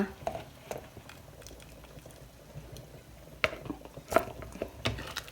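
Soft bubbling of a pot on the boil, quiet and steady, with a few sharp clinks of utensils against the pot near the end.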